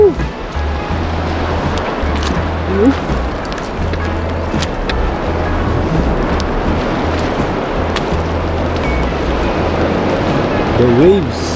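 Open-sea waves off Baganga, Davao Oriental wash continuously, a loud rushing broadband roar with low rumbling and wind noise, while people talk and call out briefly in between.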